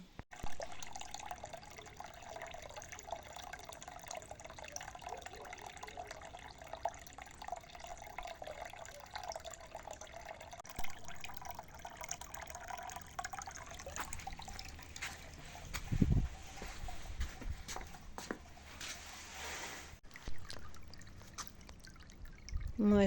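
Water drained from a heating system runs and trickles steadily into a bucket, a continuous splashing flow with faint background hum and a brief knock midway.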